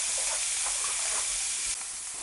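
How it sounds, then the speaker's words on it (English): Beef mince browning in a frying pan gives off a steady, close, loud sizzle with bursts of hiss and stirring, which drops slightly near the end. "This is the last of the mince that I've browned."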